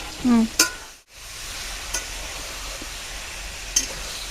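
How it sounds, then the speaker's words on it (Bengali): Chicken pieces frying in a pan make a close, loud sizzle, briefly interrupted by a short dip, with a few clinks and spatters along the way; a short vocal sound occurs near the start. "আমি ততক্ষণে মাংসটা ভাজি।"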